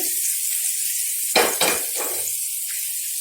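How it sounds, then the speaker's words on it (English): Steady high hiss of hot oil, then a sudden loud crackling sizzle burst as a hot oil tempering mixture is poured into pickle, settling back to a continuous sizzle. "The oil is very hot, so carefully pour all the tempering mixture to the pickle."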